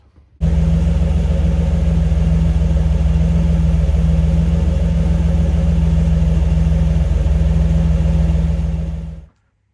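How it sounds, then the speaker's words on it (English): A third-generation Chevrolet Camaro engine turns over and settles into a loud, steady rumbling idle for several seconds before cutting off. "So we'll go for a cheeky wee engine start."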